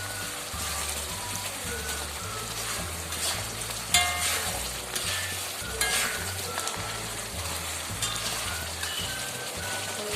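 Jaggery syrup sizzles and bubbles in a pan while a date pickle mixture is stirred, giving a dense, continuous frying crackle with repeated scraping strokes and a few sharper clinks.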